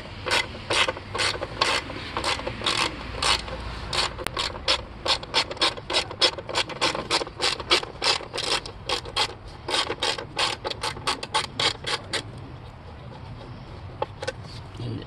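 A ratchet wrench works bolts off the engine of a Chrysler Pacifica during a spark plug change, giving long runs of rapid, even clicks close by. The clicks pause briefly and then stop near the end.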